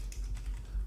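Typing a web address on a computer keyboard, a short run of soft, close key clicks in quick succession with no talking.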